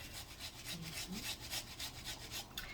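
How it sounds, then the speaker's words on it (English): Onion being grated on a small microplane while cooking mini stuffed peppers at a campsite, a steady, close scraping rasp repeating in quick strokes, with no talking. "So I use my little microplaner and grate it in"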